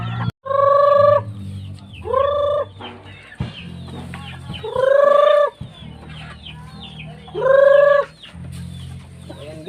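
Hungry pet chickens cluck and call while being fed in the countryside, several loud close squawking calls repeating at intervals over a lower murmur of clucking.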